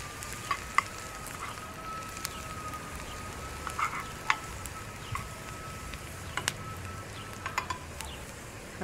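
Onion and garlic frying gently in a pan, a steady low sizzle under scattered light pops and clicks, with no talking.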